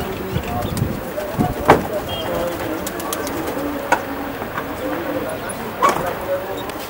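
Pigeons of a pet fancier's loft, including red-eyed Cheena birds, coo softly under a man's conversation, with a few sharp knocks and a distant dog bark.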